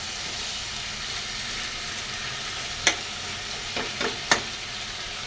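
Potatoes sautéing in a pan for a Bengali fish dish produce a steady, close sizzle and hiss, broken by a few quick clinks and scrapes of stirring.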